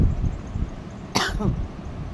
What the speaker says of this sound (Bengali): আজকে একটু ঠান্ডা লেগেছে, একটু কাশি হয়েছে,